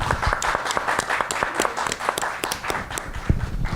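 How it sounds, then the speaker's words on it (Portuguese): Audience applause at a talk event, with crisp individual claps close by over a dense crowd background, steady throughout. "Eu pediria uma salva de palmas para ela"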